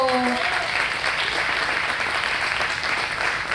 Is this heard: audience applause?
yes